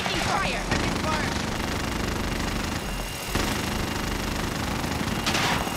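Dense, sustained automatic gunfire from the Call of Duty Warzone battle royale game, with rapid bursts on the Caldera map, loud and continuous with a brief lull midway while voices talk over it.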